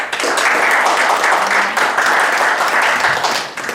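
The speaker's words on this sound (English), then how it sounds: "give me some warm applause to welcome expert Dr. Kanye West" Warm, dense applause from an audience at an improv student showcase, a steady wash of many hands clapping at close range for a few seconds.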